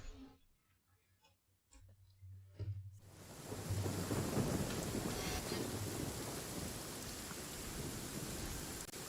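Rain and thunder inside the Genshin Impact game world: after a quiet stretch with faint ticking, a low thunder rumble rolls in and steady heavy rain takes over, loud and continuous to the end.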